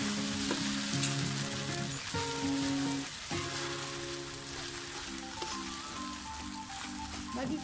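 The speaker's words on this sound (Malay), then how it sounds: "Masuk sayur dulu baru masukkan suun bihun pula" Glass noodles (suun) and vegetables frying in a pan, a continuous close sizzle with occasional stirring scrapes, no voices.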